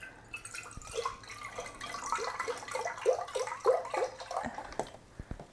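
Vegetable broth is poured into an Instant Pot during a red lentil curry, a soft irregular splashing and gurgling trickle that runs several seconds at low volume, close by and alone.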